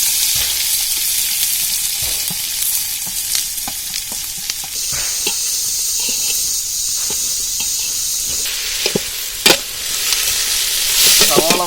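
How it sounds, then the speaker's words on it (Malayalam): Sliced onions frying in hot oil for a chicken dum biryani masala, a steady close sizzle and hiss with occasional stirring clinks and scrapes, no voices. "നമ്മൾ ഓയിൽ വെച്ച് ഇനി സവാള ഇടുവാണ്."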